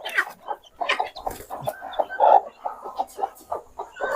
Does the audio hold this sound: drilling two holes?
no